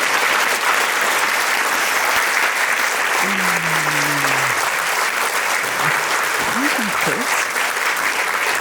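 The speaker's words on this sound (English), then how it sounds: "please, a huge round of applause for the women" Sustained applause from a crowd at a literary festival event, dense and steady at moderate loudness throughout, with a few faint voices rising briefly beneath it.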